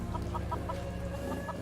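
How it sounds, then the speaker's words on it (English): Chickens in a pen on a Fallout 4 farm settlement give a rhythmic series of short, soft clucks over a low steady background hum. "So this is the Brahmin and chicken pen."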